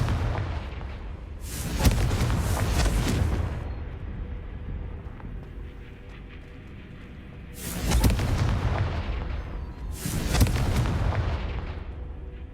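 Confringo spell blasts in the Hogwarts Legacy video game: three loud booming bursts, each rolling on for a second or two, separated by quieter game ambience, no talking.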